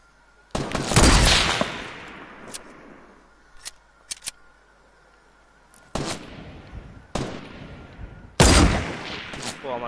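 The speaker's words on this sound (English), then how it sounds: "I think that's a shotgun" Sharp shotgun blasts and gunfire crack in a Fortnite solo match, a loud opening shot followed by scattered smaller pops and several more heavy blasts, close and punchy against quiet gaps.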